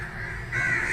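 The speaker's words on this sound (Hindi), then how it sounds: "कौवे भी गा रहे थे," A crow caws once, a single harsh drawn-out call heard fairly close against quiet outdoor background.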